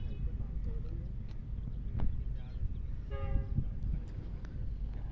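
Karakoram Express passenger train led by a GU40 locomotive running through a station at Jungshahi, a steady rumble with a brief horn-like tone partway through and faint background voices.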